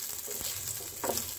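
Chopped garlic, ginger and finely cut green chilli sauté in a pan for spicy chicken Maggi, giving a steady close sizzle with a couple of brief stirring scrapes, no talking.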